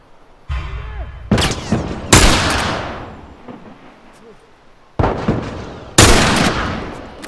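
Sharp, loud gunshots in The Last of Us Part II, five distinct reports spaced a second or more apart, each with a decaying echo tail, over a quiet background with a brief voice early on.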